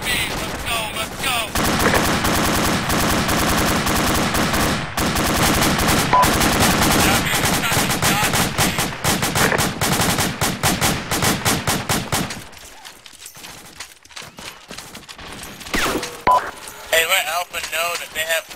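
Enemy gunfire in a video game firefight, long dense bursts of rapid machine-gun and rifle shots cracking loudly for about twelve seconds, then thinning to scattered sharper reports, with voices talking underneath.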